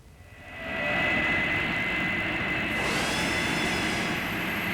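A C-5 aircraft's TF-39 high bypass jet engine roars as it spools up, a loud, steady broadband rush with prominent rising whining tones that grow brighter partway through, heard alone without talk.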